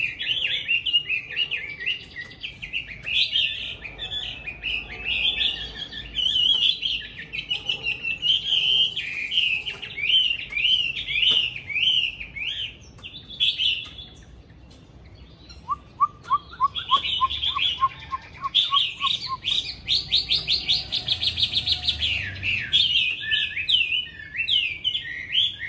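A caged Chinese hwamei songbird sings loudly and close by in long, varied runs of bright whistled phrases, pausing briefly midway before a rapid rising series of notes and then resuming its full, fluid song.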